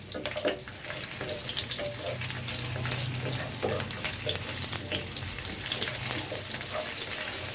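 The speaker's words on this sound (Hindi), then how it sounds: "लहसुन को भी हम थोड़ा सा फ्राई कर लेंगे।" Continuous crackling sizzle of garlic frying in hot oil for tomato chutney, with occasional stirring clatter, steady and close, no voices.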